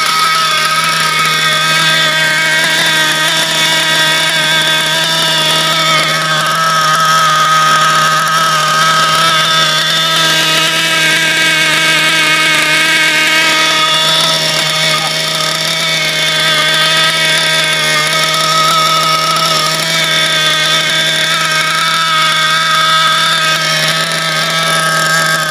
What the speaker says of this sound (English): I'm finally breaking in my Poloma Rex limited edition motor.